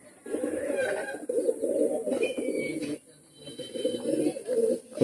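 Pigeons coo in low, repeated throaty bursts, close and steady, filling most of the stretch with a brief lull in the middle and a few faint higher chirps above.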